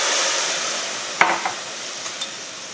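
Vegetables frying in a hot pan for a spinach and artichoke stuffed portobello dish, a loud continuous sizzle with a few brief scraping knocks from stirring, close and without talk.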